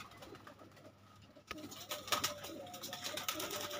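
Pigeons in a loft, a newly added pair of Bhat peyra pigeons among them, with soft intermittent cooing that grows busier after a quiet start, close and moderately loud over faint background noise.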